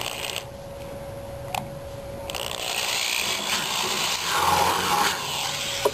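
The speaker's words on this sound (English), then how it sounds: "I'm going to drill a pilot hole here first." A power drill with a 3/16 bit whines and grinds steadily as it bores a pilot hole in a pickup truck's metal, its pitch shifting under load, with a few faint clicks and knocks nearby.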